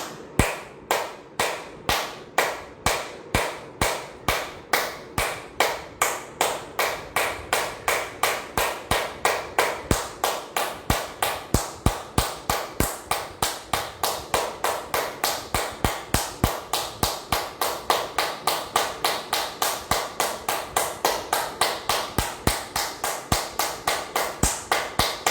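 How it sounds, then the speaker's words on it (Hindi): Steady hand clapping done as a one-minute yoga hand exercise, sharp close claps repeating at an even, brisk rhythm for the whole stretch with no talk. "सातवीं क्रिया, ताली बजाना है।"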